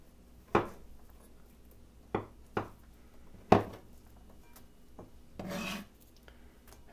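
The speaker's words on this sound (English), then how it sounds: "I'm going to transfer these onions" Chopped onions are scraped off a chopping board into a bowl in a few short, soft, close rasping strokes, one longer drawn-out scrape near the end, in an otherwise quiet kitchen.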